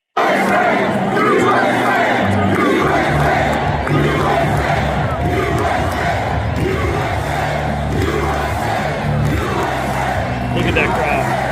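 A large rally crowd chants in unison, a dense roar of many voices rising and falling in repeated waves, loud and continuous from start to finish.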